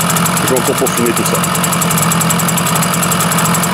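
A watercooled Zündapp KS 50 moped engine runs steadily up close with a rapid, even two-stroke idle and a slight knock, while someone talks over it.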